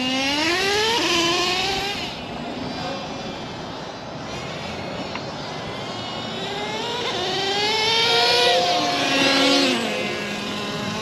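A nitro-powered Traxxas T-Maxx RC truck engine runs loud and high-pitched, its whining revs sweeping up and down several times as the truck moves nearer and farther, with no talk over it.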